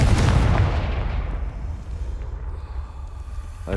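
A Confringo blasting spell exploding in Hogwarts Legacy, a single loud, close boom that rolls off into a fading rumble over a few seconds.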